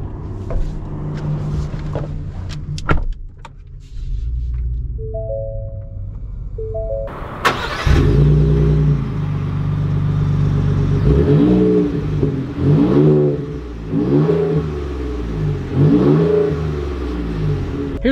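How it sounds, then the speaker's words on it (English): A 2020 Ford Raptor pickup fires up with a sharp crank and catch, then idles and pulls away, its engine rising and falling through repeated revving gear changes, loud and close, with no talk. "let's take a stock Raptor out and see how she drives."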